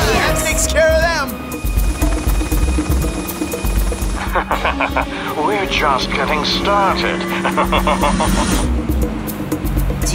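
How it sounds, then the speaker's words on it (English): A helicopter's continuous drone runs underneath excited talking and shouting, with engine noise rising and falling throughout. "Do you hear that? Sounds like a helicopter."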